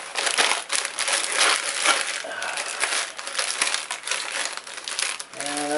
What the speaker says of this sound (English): Hot hand warmers. Definitely good for a winter type situation.